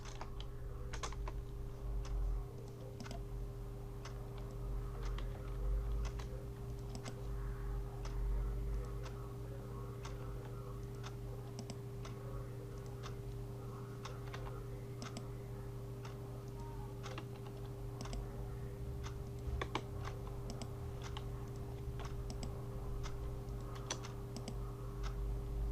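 Letters typed one by one on a computer keyboard, a steady run of light, close clicking keystrokes over a constant low hum, with no talk.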